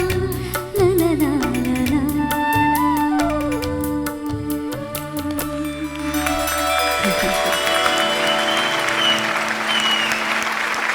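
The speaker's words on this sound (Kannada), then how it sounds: "ಜೋರಾದ ಚಪ್ಪಾಳೆ" An audience bursts into applause after a song, rising from the fading last sung notes into loud, sustained crowd clapping.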